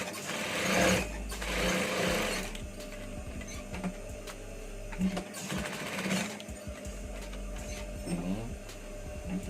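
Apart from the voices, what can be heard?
sewing machine stitching a shirt collar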